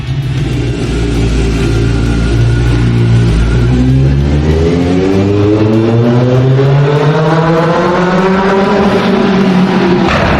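A Kawasaki Z1000 four-cylinder motorcycle engine revs loudly and up close, its pitch dipping and then climbing steadily in one long, rising roar.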